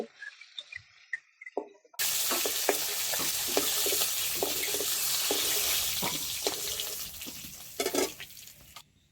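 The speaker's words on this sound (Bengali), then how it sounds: "মাথাগুলো ভাজা হয়ে গেছে এখন তুলে নেব" Hilsa fish heads frying in oil, a loud steady sizzle that starts abruptly and runs on close up, broken by scattered clinks and scraping stirs from a spatula, after a few quiet knocks.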